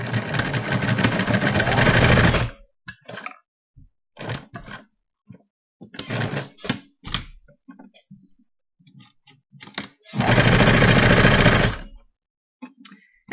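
A sewing machine stitches fabric for a headband, whirring steadily in close bursts of a couple of seconds each, separated by quieter pauses with scattered clicks and handling noises.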